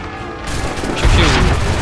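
Cannon fire in Assassin's Creed 3, a dense rumbling crash that swells and grows louder toward the end of the short stretch, amid other battlefield din.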